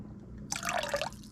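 Something splashes into a pot of water being heated for a seafood boil, a short burst of liquid sound lasting about half a second over low background noise.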